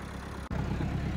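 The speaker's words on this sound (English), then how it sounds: "I will get back in the tractor with her" A tractor engine runs steadily and close by with a low, rumbling idle, interrupted by a brief dropout before the drone resumes.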